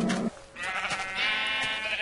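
A sheep bleats in the video game Minecraft, one short nasal wavering bleat rising clearly after a brief burst of game noise, loud and close, with no talking.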